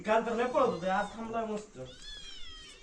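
A small cat meows in drawn-out, wavering cries, close and fairly clear, with a higher, thinner call near the end.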